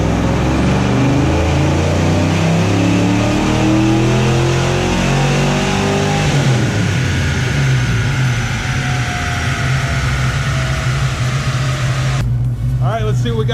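FoxBody Mustang fitted with a GT40 intake, revving hard on a dyno at Powercurve Motorsports: a loud, sustained engine roar climbing through the gears, then settling to a steady drone before abruptly cutting off near the end.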